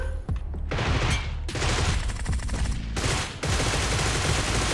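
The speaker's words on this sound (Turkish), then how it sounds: "Abi oradan paso ateş edin, bir şey yapın." Sustained automatic rifle fire from AUG and Groza guns in a PUBG Mobile squad battle, dense rapid bursts rattling almost without pause, loud and close, with brief gaps between volleys.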